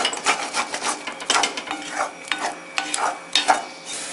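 A spatula scraping stuck sorrel greens off the bottom of a pan while cooking a sorrel pickle: repeated rough, rasping strokes in an uneven rhythm, close and alone.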